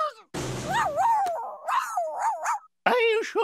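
A cartoon poodle whimpers and yips in a series of rising-and-falling whines with short barks, close and fairly loud, broken by brief pauses.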